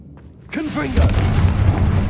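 A voice shouts a spell in Hogwarts Legacy, then the Confringo fire spell bursts in a deep, rumbling boom that carries on with a low roar for over a second.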